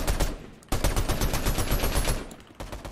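Rapid automatic gunfire in Fortnite during a cash cup match, loud sustained bursts of closely spaced shots with a brief gap, then more firing, with no talk over it.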